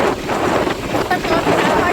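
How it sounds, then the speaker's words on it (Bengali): Strong wind rushing past a rider seated in the back of a moving vehicle on the way to the Ganges, a steady loud roar of wind buffeting the microphone throughout. "প্রচণ্ড হাওয়া দিচ্ছে।"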